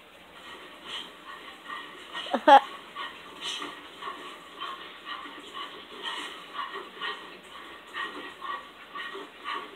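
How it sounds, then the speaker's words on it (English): A dog gives a sharp bark and then excited yelps and whimpers against a busy background of chatter and noise. "Oh, there's that dog go crazy."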